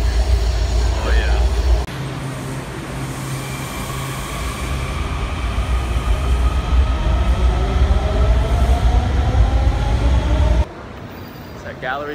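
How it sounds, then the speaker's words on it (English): A metro subway train rumbles loudly and steadily with rising wheel and motor whine that builds for several seconds, then drops suddenly to quieter ambience; voices are faintly audible. "just got off the metro"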